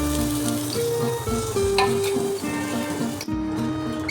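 Chopped tomato lands in a pan of chickpea masala spiced with garam masala and black pepper, setting off a steady close sizzle of frying with light stirring scrapes and no talking.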